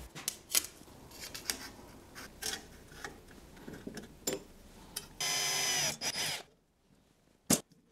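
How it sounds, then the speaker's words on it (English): Drilling holes in aluminium channel profiles: scattered sharp clicks and handling knocks, then a single loud steady drill run of about a second, followed by quiet and one last click, close up with no talk. "then drill some holes to them"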